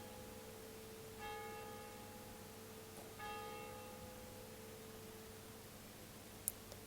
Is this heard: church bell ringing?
yes